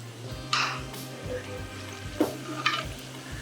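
Munthiri kothu sweets frying in hot oil give a steady low sizzle, broken by a few scraping stirs of a ladle against the pan.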